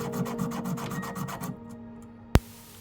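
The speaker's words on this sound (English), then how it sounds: "the next step is filing the base of the bezel nice and flat, get it nice and even" A metal ring bezel being filed flat at its base, a run of quick, even rasping strokes up close, followed by a pause and a single sharp tap.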